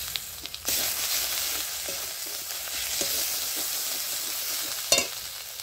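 Ground spices with turmeric, chilli, salt, ginger and garlic fry in a pan for a mushroom and potato curry, a bright sustained sizzle with a few light scraping stirs and a sharp clink near the end.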